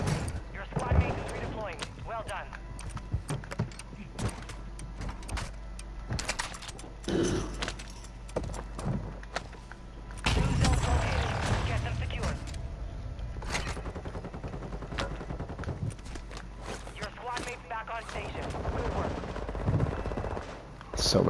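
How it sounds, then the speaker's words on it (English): Dense gunfire from Call of Duty: Modern Warfare II Resurgence, with loud repeated automatic bursts and single shots layered over constant game noise, continuing almost without pause throughout. "You could shoot your gun in the air."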